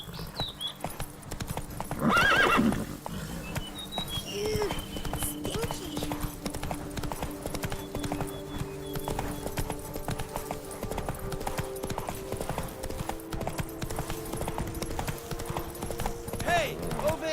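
Horse hooves clip-clopping in a steady trotting rhythm in the video game The Witcher 3: Wild Hunt, with a brief whinny near the start, continuous and close under game ambience, with a voice speaking briefly.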